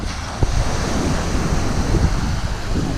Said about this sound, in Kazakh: Судың дауысы керемет.